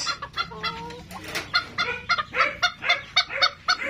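A hen clucks on a Philippine farm, giving a rapid run of close, loud clucks and short calls in an uneven rhythm over faint background noise, with no talking.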